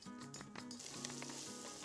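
Steady, close sizzling of paste frying in a hot pan, a continuous crackling hiss with a low hum underneath.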